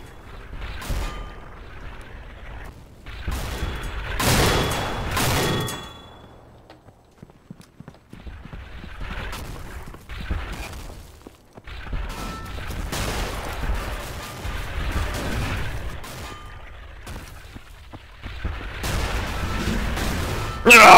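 Explosions and gunfire in a WWII tank battle video game, Red Orchestra on the Carpathian Crossing map, with a tank shell scoring a direct hit; loud repeated bursts and blasts over a rumbling battle, with a voice talking.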